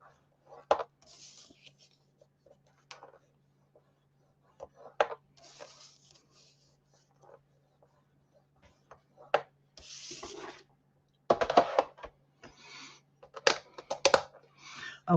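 A craft blade or scoring tool drawn across a 4x4-inch cardboard square for a baby album, giving short scratchy strokes in separate bursts at close range with quiet pauses between them.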